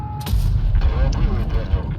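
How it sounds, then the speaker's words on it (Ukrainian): In a tank video game featuring the AMX 13 90 and Centurion I, a deep booming tank gun shot rings out with a rolling tail, while a person talks over the game sound. "І от зараз я виїжджаю, даю два постріли"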